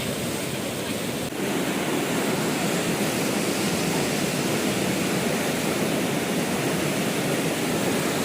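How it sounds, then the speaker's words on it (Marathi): Floodwater of the Agasti river at Ravande village, Kopargaon taluka, rushes past in a loud, dense, unbroken roar, steady and close throughout with no voices. "पाच मिनिटात पाण्याचा प्रचंड स्पीड वाढलाय"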